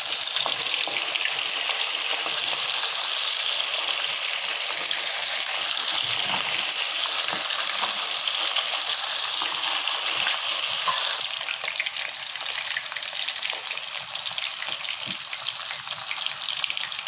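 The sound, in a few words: chicken frying in oil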